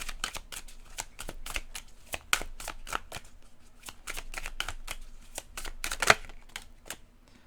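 Tarot cards being shuffled by hand before a three-card draw, a quick close run of crisp riffling flicks and soft slaps repeating steadily, quiet and with no talking over it.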